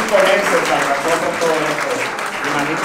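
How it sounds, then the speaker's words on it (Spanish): Crowd applause at an award ceremony: loud, continuous clapping from a large audience, steady and unbroken for about three seconds. "Un aplauso."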